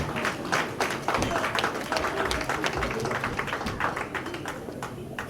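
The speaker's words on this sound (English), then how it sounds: "Round of applause, ladies and gentlemen." Guests at a PCNI Orlando Branch induction ceremony receive a round of applause, a steady wash of many hands clapping in a large room, moderately distant and even, with faint voices mixed in.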